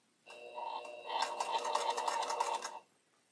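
Close, rapid whirring of a sewing machine stitching a quilt block, a short burst of about two and a half seconds that starts slower and then speeds into fast, even mechanical clatter before stopping.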